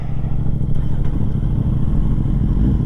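2015 Kawasaki Z800 motorcycle pulling away, a loud, close, steady low engine drone with slight clatter building as it moves off.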